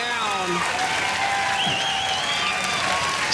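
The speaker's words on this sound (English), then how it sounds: "this crowd is on their feet for hometown girl, Eva Welsher." A crowd on its feet applauding at the US Open Pickleball Championships pro doubles, sustained loud clapping and cheering throughout, with a commentator speaking over it.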